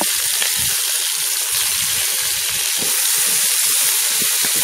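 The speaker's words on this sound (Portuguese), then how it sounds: "fritar a cebola e o pimentão um pouquinho." Chopped onion and bell pepper fry in a hot pan with a loud, constant, close sizzle and crackle, with occasional pops and stirring and no voices.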